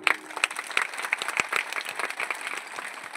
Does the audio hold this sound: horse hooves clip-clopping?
no